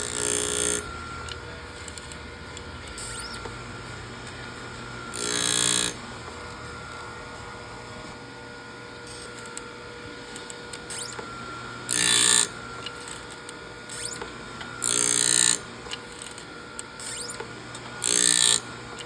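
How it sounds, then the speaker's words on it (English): A bench grinder grinds down a chainsaw chain raker in several short bright bursts, each a second or so long, separated by a steady background hum and light clatter. "I just bring my grinder down"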